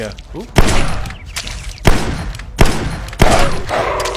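Gunshots from the VR game Dinosaur Island: four loud, sharp single shots spaced about a second apart, with a rumbling tail behind each and a voice talking between them.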